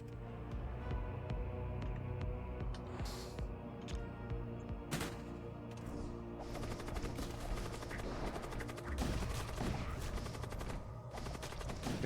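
Rapid crackling bursts and explosive pops from crew being killed and blown up in a chain reaction in the space-combat game Void War, dense and continuous over a steady rumbling background hum.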